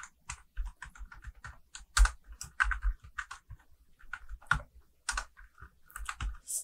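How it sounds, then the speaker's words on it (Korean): Typing on a computer keyboard while entering data into spreadsheet cells, with irregular close clicks and several heavier Enter key strikes standing out, no voices. "엔터를 치면서 밑에 셀로 내려가면서 한 10씩 완성하는 걸로 할게요."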